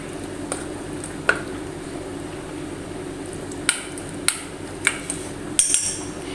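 Fish masala and coconut milk mixed by hand for a spiced mackerel fry, giving a few scattered soft clicks and light taps against a dish over a steady low hum, with no talking.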